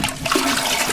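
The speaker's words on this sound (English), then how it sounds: "you can cause problems at home by flushing the wrong things down a toilet" A toilet flushes in a loud, close rush of swirling water that fills the whole moment without any voices.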